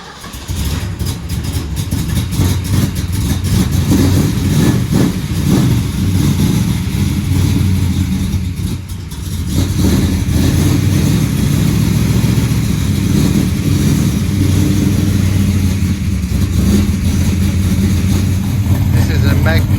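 An unmolested Ford Falcon XY GT engine runs loudly and steadily at idle, a continuous deep rumble that dips briefly midway, with voices talking over it.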